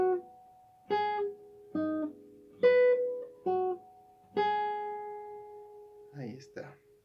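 A plucked guitar plays a slow sequence of six separate notes, each ringing and fading, the last one sustained, followed by a brief soft rustle.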